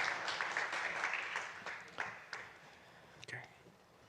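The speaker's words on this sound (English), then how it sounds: "Round of applause for them, please." Audience clapping for panelists at a business conference in Rome, several distinct claps that fade out, with a voice speaking over the end.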